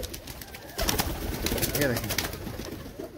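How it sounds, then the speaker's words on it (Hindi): Teddy pigeons on a rooftop in Jammu give soft cooing calls mixed with flapping and rustling bursts, close by, as someone speaks briefly. "ये देख रहे हैं क्या ही कबूतर है यार"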